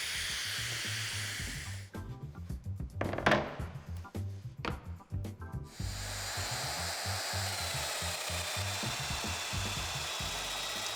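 A power drill whirs into wood in a few bursts, drilling connector holes for mortises, the motor hum steady underneath, with short pauses between cuts.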